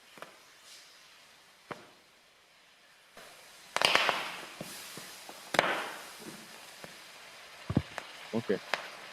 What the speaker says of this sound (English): Now we'll hear a little explosion.